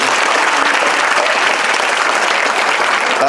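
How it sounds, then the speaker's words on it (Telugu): A room full of students bursts into loud, dense applause that holds steady from start to finish, close and continuous with no talk over it. "అందరూ చప్పట్లు కొట్టండి ఒకసారి"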